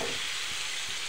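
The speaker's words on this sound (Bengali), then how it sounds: "এবারে আমি ফ্রাই প্যানে দিয়ে দেবো" Achari chicken frying in a frying pan makes a continuous, close sizzle with a bright steady hiss and faint stirring scrapes, heard alone without voices.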